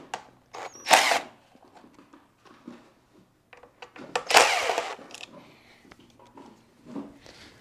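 A power driver fitted with a T25 Torx bit removes bolts from a Ducati Panigale V2 fender, sounding as two short whirring bursts near and fairly loud, with quieter clicks and handling noise between them.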